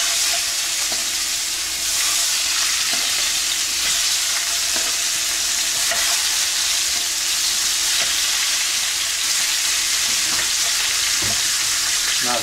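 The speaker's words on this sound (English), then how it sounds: "I am going to put in some skinless, bone-in thighs." Skinless bone-in chicken thighs seasoned with salt and pepper sear in hot corn oil, giving a steady, close, crackling sizzle with scattered sharp pops throughout and no voices.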